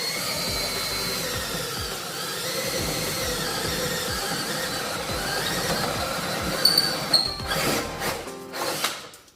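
A step drill bores through sheet metal for a custom Chevelle engine bay cover, a continuous grinding whine and rattle that grows harsher and breaks into uneven bursts near the end.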